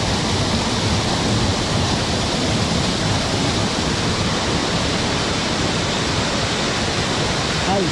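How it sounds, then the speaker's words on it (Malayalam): A hidden waterfall in a Kerala forest at Kamakshi sends up a steady, dense roar of falling water, loud and unbroken throughout, with no other sounds standing out. "ഒരു രക്ഷയില്ല കിടിലും വെള്ളച്ചാട്ടം"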